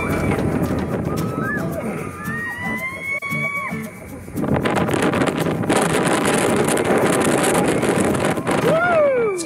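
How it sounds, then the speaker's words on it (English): Roller coaster at Silver Dollar City launching through the second half of its track, a sudden surge of loud rushing wind roar that swells and stays intense, with riders' voices and screams heard over it. "the ride launches you through the second half of the track"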